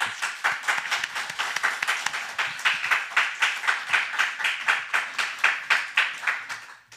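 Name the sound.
audience applause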